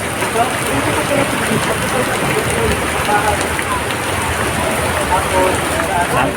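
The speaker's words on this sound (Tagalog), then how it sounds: "Dumidilim na sa lakas ng ulan" Heavy rain pours at a building entrance in Binondo, Manila, a dense, loud, continuous hiss of drops beating on surfaces throughout, with faint voices mixed into the downpour.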